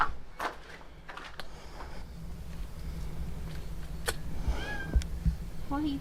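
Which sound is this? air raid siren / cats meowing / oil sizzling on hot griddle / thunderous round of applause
cats meowing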